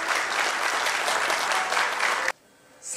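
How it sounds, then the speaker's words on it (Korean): Dense applause from the audience at an elder-abuse prevention day ceremony fills the space for about two seconds, then cuts off abruptly into near-quiet. "오늘 다시 한번 박수 부탁드립니다"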